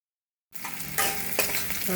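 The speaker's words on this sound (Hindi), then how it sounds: "थोड़ा फ्राई कर लेंगे इसको।" After a short silence, ginger for chicken chilli starts frying in a pan with a sudden loud sizzle, and two stirring scrapes push it around over a steady crackle.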